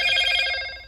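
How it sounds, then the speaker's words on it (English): A phone chimes once with a bright, bell-like tone that rings clearly and then fades out over under a second. "my phone had to chime on that."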